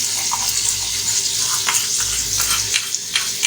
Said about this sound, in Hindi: अब इसमें अदरक लहसुन का पेस्ट डालेंगे